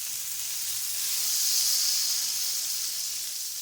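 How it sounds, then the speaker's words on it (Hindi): Two tablespoons of butter and one of vegetable oil sizzle in a pan for white sauce, a steady close hiss that swells slightly in the middle and stays alone without voices. "इसके लिए हम डालेंगे 2 टेबल स्पून बटर और 1 टेबल स्पून वेजिटेबल ऑयल।"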